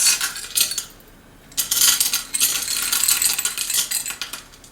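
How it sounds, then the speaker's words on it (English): Chocolate chips pour into an unheated crock pot in a home kitchen, a dense rattling clatter of small hard pieces striking the pot in two bursts with a brief lull between. "first we put in the chocolate chips"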